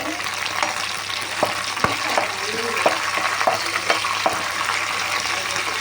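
Onions and curry leaves frying in oil for gongura pachadi, a loud steady sizzle with occasional scrapes and taps of a stirring spoon against the pan.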